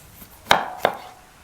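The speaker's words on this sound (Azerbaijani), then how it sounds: "Qırmızı biberi, yer kökünü xırda-xırda doğrayırıq." Two sharp knife chops through red pepper and carrot on a cutting board, close and crisp, spaced about a third of a second apart in an otherwise quiet room.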